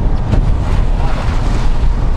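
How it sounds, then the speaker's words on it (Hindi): Swollen, muddy brown river rushing down from the Himalayan mountains near Chamba after heavy rain, a loud, dense, continuous roar of churning water with wind buffeting the microphone, no voices. "बहुत धार से पानी आ रहा है और बहुत तेज़ी से पानी आ रहा है ऊपर पहाड़ों से"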